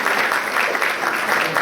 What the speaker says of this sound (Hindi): आए हम सब तालियां बजाकर